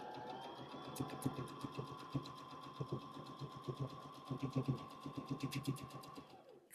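A sewing machine backstitching while sewing a wallet, a rapid run of mechanical needle strokes with a steady motor hum, close and moderately quiet, stopping abruptly near the end.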